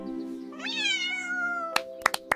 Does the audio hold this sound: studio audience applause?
no